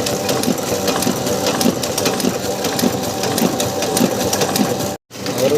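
A printing machine prints wedding envelopes and multicolour cards in a steady, fast mechanical clatter. The close rhythm runs loud and continuous, with a brief cut-out near the end.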